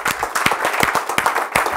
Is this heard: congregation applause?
yes